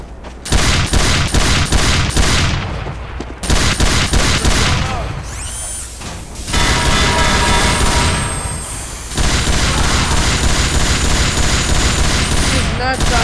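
Rapid automatic gunfire in Team Fortress 2, loud sustained bursts of fusillade with brief gaps between them, joined by booming shots and occasional voices under the shooting.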